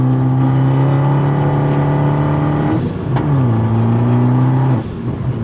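A Fiat 500 Abarth turbo engine with a 5-speed manual revs hard up close, its pitch climbing through the gears with two quick drops at the shifts, loud and continuous.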